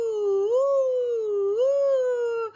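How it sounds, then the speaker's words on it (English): Wind howling as a story sound effect, a loud, sustained, wavering tone that rises and falls in pitch twice over a few seconds, steady and alone without any talk. "The wind howled through the loft."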